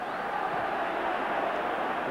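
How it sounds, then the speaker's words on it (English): Huge football crowd at Parkhead for Celtic against Rangers, a steady, dense roar and murmur of thousands of fans that holds evenly throughout without distinct chants. "as this huge crowd settles again"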